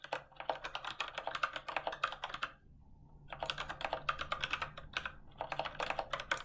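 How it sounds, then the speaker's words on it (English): Mechanical keys on a Kinesis Advantage keyboard clatter in quick, close bursts of typing, with a short pause between flurries. "mechanical keys. They sound really good."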